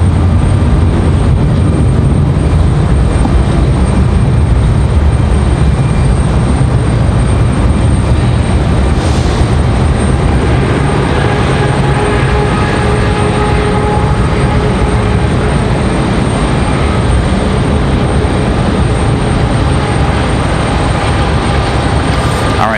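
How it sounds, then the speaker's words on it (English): A Boeing 737 arriving from Charlotte touches down at Raleigh-Durham airport, a steady, loud broadband roar of engines and rolling rumble that holds for the whole stretch with no talk. "As the 737 touches down from Charlotte."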